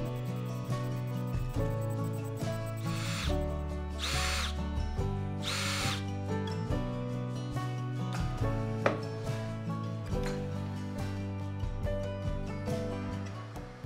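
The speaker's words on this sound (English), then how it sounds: "Drill a 100mm diameter hole in the top plate to secure the motor." A power drill bores a 100mm hole through the top plate of a DIY rotary spindle sander, a steady whirring run with a few brief louder surges, close and continuous with no voices.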